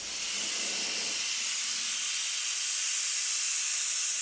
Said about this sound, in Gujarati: અહીંયા કુકરમાં 4 સીટી થઈ ગઈ છે.